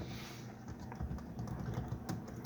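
Someone types a message on a computer keyboard: soft, rapid key clicks run continuously at low volume, with no voices.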